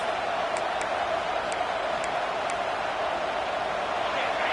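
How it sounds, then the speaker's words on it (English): Stadium crowd at a football game, a dense, steady roar of many voices from a distance, with a few faint higher tones popping out above the wash of noise. "This crowd bringing the energy and noise early."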